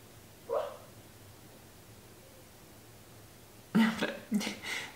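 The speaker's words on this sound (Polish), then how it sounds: "jest bardzo gadatliwy pies, no i właśnie dużo dźwięków różnych wydaje" A quiet, low background gives way to a brief faint yip, then a cluster of soft muffled barks and whimpers from a dog close by, dreaming in its sleep.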